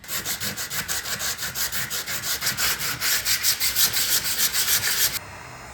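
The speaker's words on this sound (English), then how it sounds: "I'm actually going to sand these top ridges here just because it's easier to sand when it's flat" Sandpaper rubbing back and forth over the top ridges of a flat cosplay armor plate, made for a Padmé Lake Dress costume, in steady rapid strokes that stay loud and close for about five seconds before stopping abruptly.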